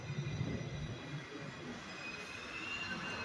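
A Pune metro train at Vanaz station gives a close, continuous rumble with a faint wheel squeal running through it. No one speaks.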